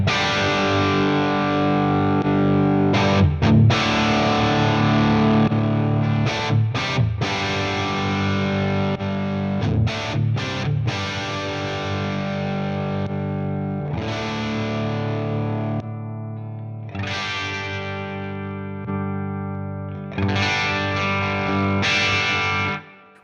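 Distorted electric guitar through an IK Multimedia Mesa/Boogie amp simulation on the Mark 1 setting plays chords and riffs with sustained notes and choppy stops, close and unaccompanied.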